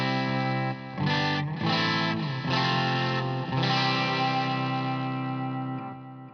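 Electric guitar played through a Princeton Reverb amp model on a Fender Tone Master Pro, ringing sustained chords strummed in a few separate strokes with a slightly driven, reverberant tone, close and loud with no talk.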